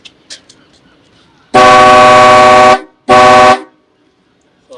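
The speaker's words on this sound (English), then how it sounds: "now I'm going to honk the horn to see how loud it is" Loud horn of a 1963 Buick Riviera lowrider, blown in two long blasts, the first about a second long and the second shorter after a brief gap, close and dominant over quiet surroundings.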